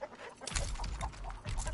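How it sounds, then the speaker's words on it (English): Chickens cluck in The Texas Chain Saw Massacre video game, a short burst of agitated clucks close by, set against game ambience. "Shut up, chickens."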